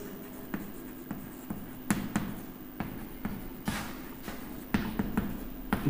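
Chalk or marker writing on a board during an English lesson, with irregular taps and scratchy strokes arriving in short bursts at close range, alone without talk over a steady low room hum.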